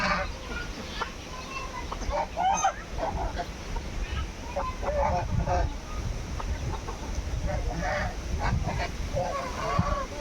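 Domestic ducks in a village yard honk and quack in a steady, busy chorus, close and fairly loud, with several birds calling over one another throughout.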